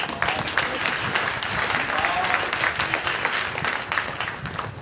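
A village church congregation at a Sunday service breaks into sustained, even applause, many hands clapping together at a steady moderate loudness throughout.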